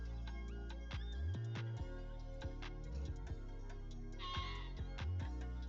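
Repeated Minecraft sheep bleats, short synthetic calls that come every second or so over a steady background hum.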